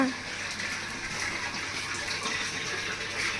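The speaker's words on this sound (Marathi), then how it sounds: "हे तर साहेब झाडांना पाणी देत आहेत मस्त" Garden plants being watered, with a steady gush of running water that continues without a break, loud and close throughout.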